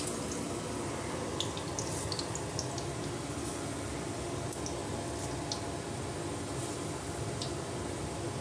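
Mustard seeds and cumin crackle and splutter in hot oil, frying for a crisp chamagadda (taro) fry, a steady dense fizz with fine pops throughout.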